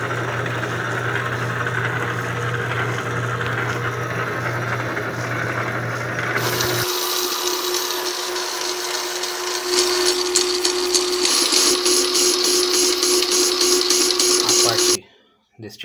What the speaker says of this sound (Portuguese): O fundido já está no torno, estamos numa velocidade reduzida